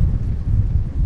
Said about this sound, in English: I would say the wind gusts are up to above 20 miles an hour now.